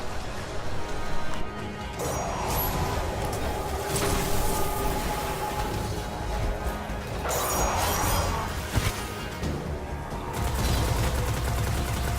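Gunfire in the video game Destiny, with several heavy shotgun blasts and crashing impacts over a dense, loud game soundscape of music and effects, and a voice heard now and then.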